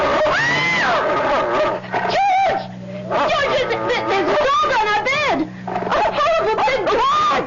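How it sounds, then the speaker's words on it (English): A dog in a radio drama gives loud barks and whining yelps in short bursts, mixed in with excited voices talking over it. "It's only a dog, for Pete's sake."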